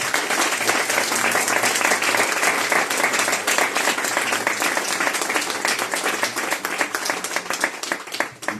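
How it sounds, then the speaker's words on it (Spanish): An audience at a book presentation breaks into sustained applause, many hands clapping densely and evenly before the sound thins slightly toward the end. "un aplauso, por favor"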